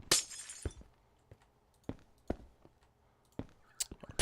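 Glass blocks breaking in Minecraft, a loud crisp shatter at the start followed by several short, sharp glassy cracks spaced irregularly, close and dry with no talk.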